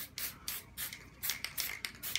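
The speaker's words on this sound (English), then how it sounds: "Now I'm going to get a little bit of what's called marbleizing spray." Marbleizing spray hisses onto an acrylic abstract painting in a series of short, quiet bursts with brief gaps between them, close by and with no talking.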